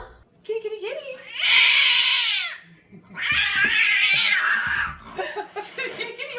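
A domestic cat gives two long, loud, drawn-out meows close by, with a person's voice calling and talking softly around them.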